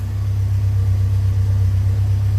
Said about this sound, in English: I'd rather just hear the engine and the exhaust and not the fan running